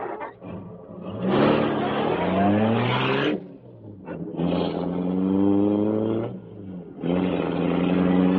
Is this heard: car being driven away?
yes